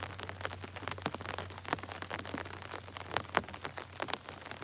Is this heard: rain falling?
yes